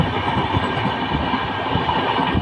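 The 12666 Madurai–Howrah Superfast Express runs near Dindigul Junction, a loud steady rumble of rolling coaches with rhythmic clacking of wheels over rail joints.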